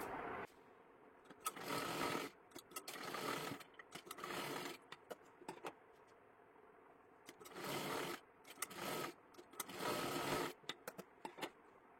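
A sewing machine double-stitches a seam on a girl's one-piece dress in a series of short, close bursts with brief gaps, mixed with sharp clicks and fabric scrapes.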